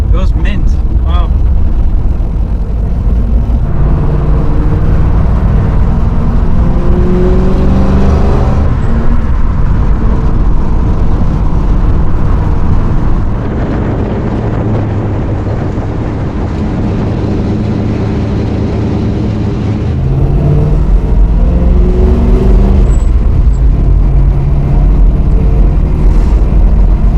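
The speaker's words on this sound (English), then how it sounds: "I love the sound of the engine." A 1969 Shelby GT350 engine runs loud and steady while the car is driven, with rising and falling revs throughout and people talking over the drone.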